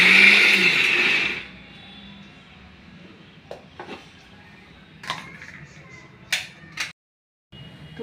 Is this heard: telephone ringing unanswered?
no